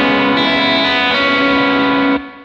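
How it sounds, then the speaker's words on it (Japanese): An electric guitar phrase rings out through a booster pedal, with open strings sustained over moving root notes: a thick, distorted, continuous chord that swells slightly at each change, then cuts off near the end, loud and without voices. "1弦と2弦の開放弦をずっと鳴らしておいて、で、あとはルート音がどんどん移動していくっていう感じのフレーズです。"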